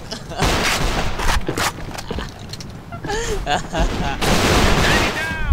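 Gunfire in the online shooter A.V.A, with bursts of rapid shots and a few louder booms mixed with game effects, while players talk over the action.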